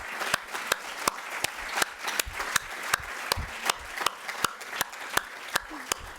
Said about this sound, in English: We should clap for all of these wonderful supporters.